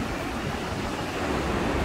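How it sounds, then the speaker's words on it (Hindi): Floodwater in the river rushes past the flooded riverside and main Kalam road in Bahrain: a loud, steady, broadband roar with no breaks, close and continuous throughout. "और दरिया पानी ही पानी।"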